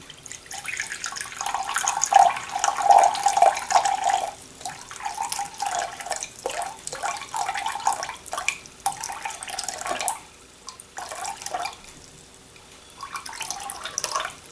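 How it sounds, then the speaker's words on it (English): Tap water pours into a container on a kitchen scale while bread dough ingredients are measured, a close, splashing, trickling stream that varies in strength, pauses briefly, then resumes more softly, with no talking. "I need 198 grams of water."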